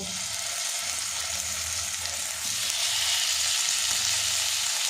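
Spiced eggplant pieces hitting hot oil with black cumin, a continuous close sizzle that swells louder partway through, with no voices.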